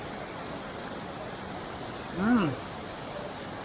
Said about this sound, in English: Look at that beautiful waterfalls,